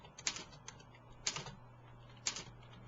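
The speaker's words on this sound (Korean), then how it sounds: "그냥 바로 키보드 상에서 입력을 해주시면 됩니다" Three short, faint bursts of key taps on a computer keyboard, spaced about a second apart, as numbers are typed into SketchUp drawing software, over a quiet room hum.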